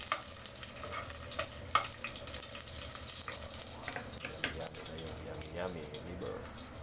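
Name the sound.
garlic frying in a hot frying pan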